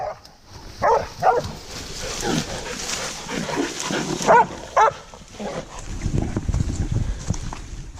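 Several dogs bark in short, sharp bursts at a middle distance, over rustling and movement outdoors.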